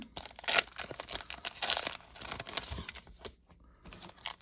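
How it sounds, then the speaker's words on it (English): Donruss baseball card packs are ripped open up close, with quick bursts of crinkling foil wrapper and tearing, irregular rustles and clicks at a low level with no talking. "Let's go ahead and rip 4 more."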